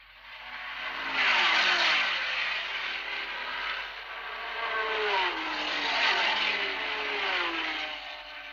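Porsche race car at the 1964 Le Mans 24 Hours, its engine note rising and falling as it passes, a steady loud roar with shifting pitch sweeps, fairly close, no talk.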